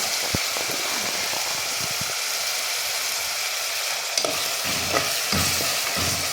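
Chicken curry with broad beans and potatoes fries in a pan at home. A steady, close sizzle continues throughout, broken by several scraping stirs of a spoon.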